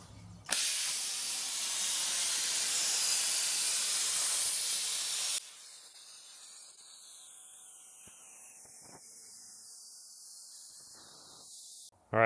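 A CNC machine cuts a part from steel sheet for a custom Land Cruiser front bumper, making a loud, steady hiss for about five seconds that stops abruptly, followed by quieter faint background sounds.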